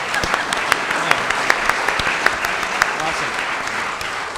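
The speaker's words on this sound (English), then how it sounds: "Big round of applause for Aaron." A quiz-show audience applauds a contestant who has just answered correctly, a steady wash of many hands clapping at moderate distance, with sharper individual claps poking through and a faint voice underneath.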